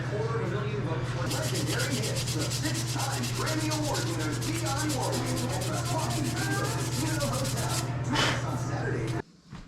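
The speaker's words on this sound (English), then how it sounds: "We'll sand her one more time. Some finer sandpaper." Fine sandpaper rubbing back and forth over an Osage orange wood bow, hand-sanded in steady rapid strokes against a constant low hum, close and continuous until it stops abruptly near the end.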